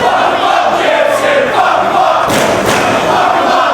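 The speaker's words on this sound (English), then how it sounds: "This crowd now getting behind James Gibson." A Ring of Honor wrestling crowd roars and chants in steady, loud cheering that fills the arena, with a couple of sharp thuds from the ring cutting through the noise.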